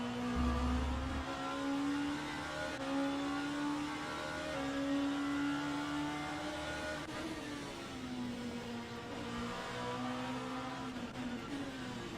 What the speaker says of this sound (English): Listen to that engine note.